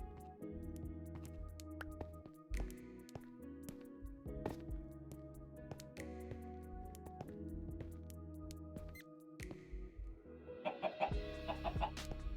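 Chickens cluck in a farming video game, a series of quiet short clucks and squawks repeating over soft game music, growing busier toward the end.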